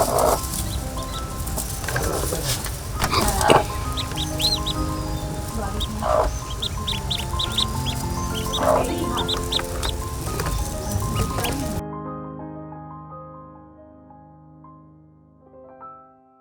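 Ducks quack and chickens cluck and call at a village poultry farm, a busy, close mix of bird calls over a patter of background noise, fading out as music takes over near the end.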